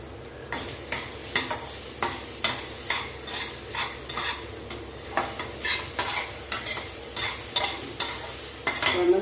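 Pear rice is stirred in a hot pan, a spatula scraping and tossing in a regular rhythm of about two strokes per second over a soft background sizzle.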